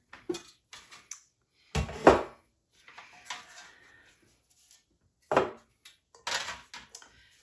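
Tomatoes coated in olive oil and salt are set onto a small metal sheet pan, a few scattered clunks and light scrapes with quiet gaps between them, close by.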